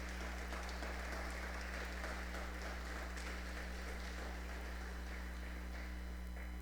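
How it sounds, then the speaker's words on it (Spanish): A church congregation claps during a Spanish-language sermon, a dense, even patter that stays steady and fairly faint throughout, set over a constant low electrical hum. "dele un aplauso a Dios"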